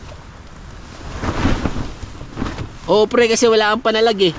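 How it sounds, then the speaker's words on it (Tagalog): Wind gusts roar against a campsite tent at Goat Cliff on Mt. Olis, Atok, Benguet, a rushing, buffeting noise that swells and fades while people talk close by. "Yung hangin pasok na pasok sa'yo eh"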